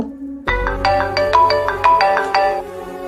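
A phone ringtone plays loudly and alone, a bright repeating melody of tones in a steady rhythm starting after a brief low hum.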